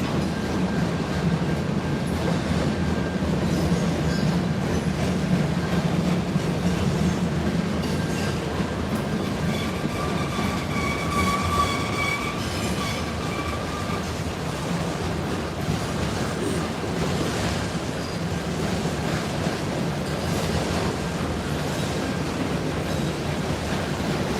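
Norfolk Southern or CSX freight train with auto rack cars rolling past at Dalton, Georgia, a loud continuous rumble and wheel clatter up close with a faint tonal squeal midway, no talking.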